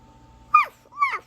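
A voice imitates a dog with two short, high yelping barks, the second slightly longer, close and clear with no other talking.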